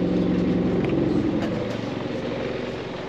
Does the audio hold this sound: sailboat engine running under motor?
yes